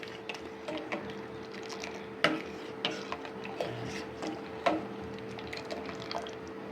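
Tea with sugar simmers in a pot, giving a low, steady bubbling with soft irregular ticks and pops over a faint constant hum, close and quiet.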